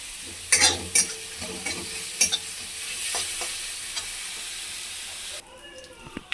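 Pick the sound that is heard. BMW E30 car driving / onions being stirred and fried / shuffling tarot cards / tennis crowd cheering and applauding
onions being stirred and fried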